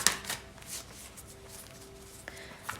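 A deck of tarot cards is shuffled quietly up close, with soft riffling and light taps spread across a few seconds against a low background hum.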